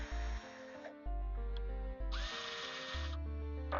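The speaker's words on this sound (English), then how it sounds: "Now the drill is a little slower" A power drill fitted with a Dremel bit whirs in short bursts, stopping and starting several times, loud and close, with grinding as the bit bites into a plastic mask.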